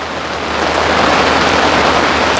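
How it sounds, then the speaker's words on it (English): Heavy summer rain pours steadily onto a pool umbrella, a dense, even hiss that stays loud and constant throughout with no voices. "there's rain running down"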